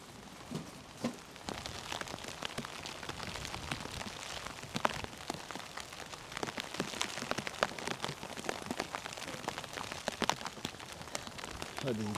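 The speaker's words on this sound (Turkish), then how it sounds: "Yine yağmur başladı." Steady rain falls at night, a dense continuous hiss of drops on surfaces that stays even and fairly close for the whole stretch, with scattered sharper drips standing out.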